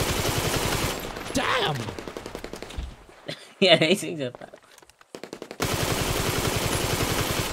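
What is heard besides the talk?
SMG gunfire in video game GTA V Online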